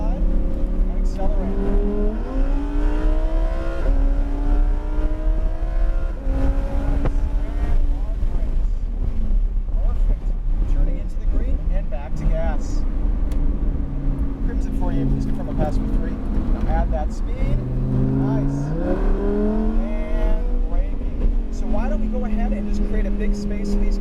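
A Lamborghini sports car engine revs and accelerates repeatedly on a track, pitch climbing and dropping in loud sweeping waves, with a voice talking over it.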